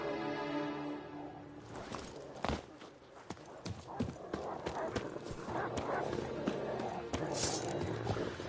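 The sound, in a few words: horse Roach galloping, from video game The Witcher Wild Hunt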